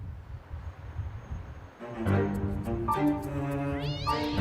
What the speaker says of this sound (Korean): 달려들어 싸우는 고양이들.